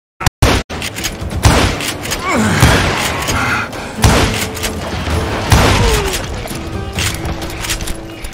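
Gunfire in the Western shooter game Call of Juarez Gunslinger, loud booming shots and thuds in irregular bursts with whizzing ricochets and brief shouts between them.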